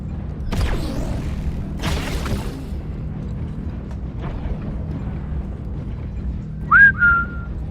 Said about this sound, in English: That's a loud whistle.